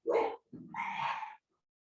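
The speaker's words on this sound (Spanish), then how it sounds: "empezó a chillar un perro aquí, fuerte" A dog barking nearby, two loud, rough barks in quick succession, the second longer and drawn out, followed by silence.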